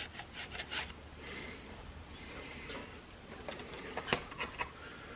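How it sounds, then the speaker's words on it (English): Cloth rubbing with alcohol to clean a pot metal porch light part before JB Weld goes on, giving soft, close scuffing and wiping strokes in short bursts with a few sharper scrapes, no talking. "we'll wipe that off with some good alcohol"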